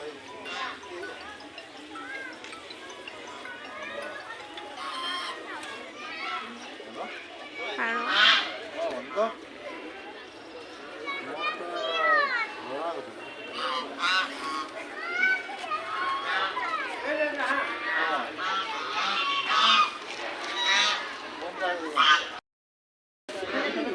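Geese honk repeatedly among a busy crowd at the Kalyani temple on Bihu day, their nasal calls mixing with steady chatter and children's voices close by.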